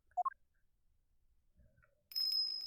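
A small bell on a dog's collar tinkles in the Ace Attorney Investigations game, a dense bright jingle rising suddenly after two short electronic beeps and a faint low thud, then ringing on steadily and loudly.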